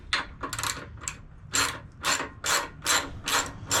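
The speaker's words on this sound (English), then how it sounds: "I want to remove the bolt from up top, and this is a 6 millimeter Allen." Ratchet wrench loosening a 6 mm Allen bolt on a 2001 Kawasaki Vulcan Nomad 1500cc motorcycle during rear wheel work, a series of close, bright clicking bursts in an uneven rhythm, alone without speech.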